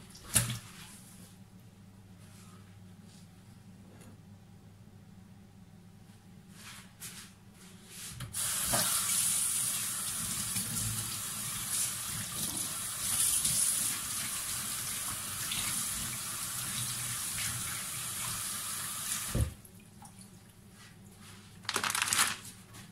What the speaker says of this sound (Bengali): এবার আমি একটু মাছটিকে ধুয়ে নিয়ে আসবো